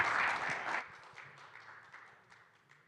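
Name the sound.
applause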